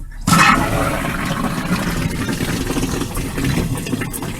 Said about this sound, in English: Let's cross our fingers and flush